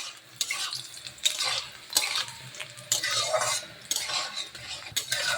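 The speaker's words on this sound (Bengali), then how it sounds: "উচ্ছেটা লাল লাল ভাজা হয়ে গেছে, ওর সঙ্গে বড়িটা দিয়ে দেবো, দিয়ে ভেজে তুলে নেব।" Bitter gourd frying with homemade lentil bori in a pan, a steady close sizzle broken by repeated stirring scrapes and light clinks of a utensil against the pan.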